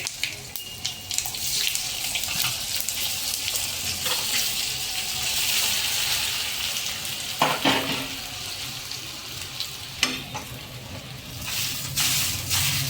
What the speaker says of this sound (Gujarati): હવે મુઠિયા વઘારી લેશું.